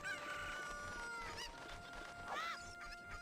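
Cucco chickens in Zelda: Ocarina of Time clucking and squawking in short bursts, with a crowing cry near the middle, fairly quiet over soft game background sound, and no voices.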